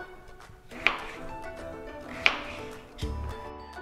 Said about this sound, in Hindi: इसको हम सेंटर से कट करेंगे और इसको मोटा मोटा ही रखेंगे